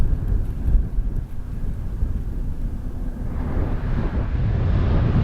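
Wind buffets a microphone in Death Valley beside a cyclist, a continuous low rumbling roar that stays loud and steady throughout with no speech.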